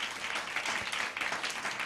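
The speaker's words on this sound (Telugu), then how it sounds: "ఒకసారి చప్పట్లు కొడతారు అందరూ" A church congregation bursts into applause together, a dense, steady wash of many hands clapping that holds for about two seconds at moderate loudness.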